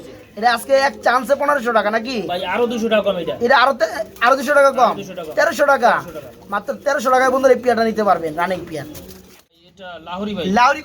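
Running pigeons coo at a pigeon farm, their soft repeated calls mixed in beneath near, almost continuous talking by people.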